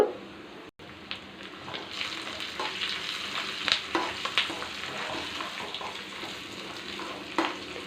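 Steady, crackling sizzle of spices, turmeric and curry leaves frying in hot oil for a tempering, close up, with occasional stirring clinks and pops throughout.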